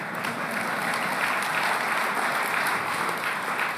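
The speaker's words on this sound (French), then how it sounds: "Mais vous pouvez l'applaudir 2 fois plus fort." Steady, dense applause from a New Year's address audience in Divonne-les-Bains, a continuous wash of many hands clapping at even loudness throughout, with no speech over it.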